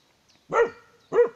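A guard dog barks twice, close and loud, with a short pause between the sharp barks.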